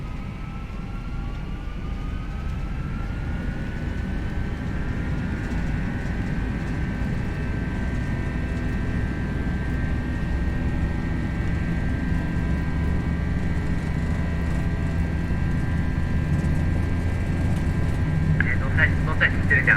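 Airbus A321 jet engines spool up and roar steadily through a takeoff roll in a flight simulator, a continuous loud engine drone with a rising whine, with radio voices talking over it.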